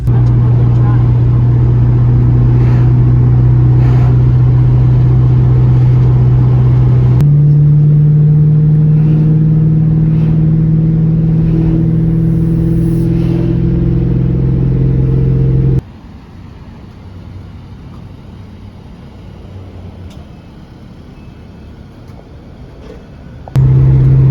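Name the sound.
Ford Mustang car driving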